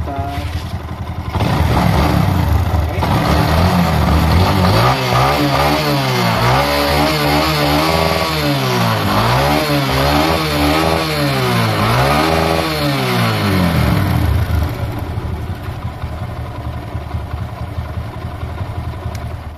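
A carburetted motorcycle engine runs loudly and close after a restart during carburetor tuning, revving up and down in repeated swells before easing back toward a steadier idle.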